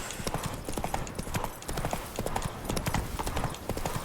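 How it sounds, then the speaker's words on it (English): A horse galloping in the video game The Witcher 3: rapid rhythmic hoof clip-clops in a steady gallop, close and continuous, with a faint whinny. "Run, Roach"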